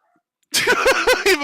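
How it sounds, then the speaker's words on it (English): Dogs let out a rapid burst of four or five loud, yelping barks and howls, close by after a moment of silence. "Even my dogs are screaming."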